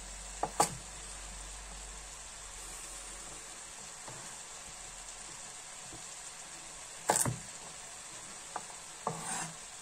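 Sweet potato cooking in a pan, with a quiet steady sizzle running throughout and a few short sharp knocks and stirring scrapes near the start, around seven seconds and near the end.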